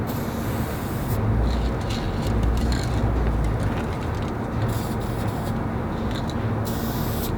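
White spray paint hisses from an aerosol can in a steady burst of several seconds, close and fairly loud, with a low mechanical rumble underneath.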